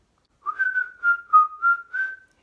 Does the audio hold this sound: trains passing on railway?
no